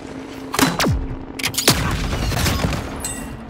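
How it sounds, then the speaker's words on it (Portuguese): Enemy gunfire in a Call of Duty match rattles in rapid bursts with heavy booms and falling whistles, loud and dense throughout, with no voices. "Os desgraçados estão atirando em mim."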